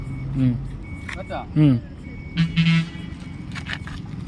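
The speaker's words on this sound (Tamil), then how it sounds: "இப்போ வண்டி ரிவர்ஸில் போக இண்டிகேட் சவுண்டு வரும்" Repeating electronic indicator beeps from a TVS iQube S electric scooter in reverse mode, a few short tonal pulses close by, with someone talking between and over them.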